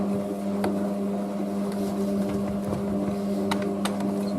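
A Hotpoint Aquarius WM63 washing machine washing a load of towels hums steadily with a low motor drone, water sloshing and occasional clicks and knocks as the drum turns.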